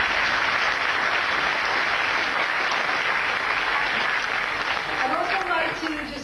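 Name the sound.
audience applause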